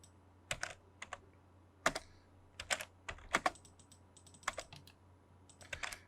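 Computer keyboard keys typed in short irregular bursts while working in AutoCAD, with crisp clicks and a few firmer single presses like the Enter key, close and clear with no talking.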